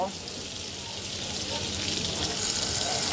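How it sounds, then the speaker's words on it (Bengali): Boiled olives frying in a pan for a Bengali olive pickle give a steady, broad hiss of sizzling oil that holds evenly throughout and swells slightly toward the end, with no talking. "জলপাইটাকে আমি কিন্তু সুন্দর করে সেদ্ধ করে নিয়েছি। দেখো, 2-1 মিনিট ভেজে নেব।"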